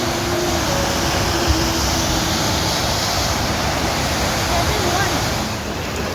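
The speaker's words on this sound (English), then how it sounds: "from which the waterfall is very close" The Sribadam Waterfall rushes loudly and steadily, a close, dense roar of falling water that stays constant with no voices.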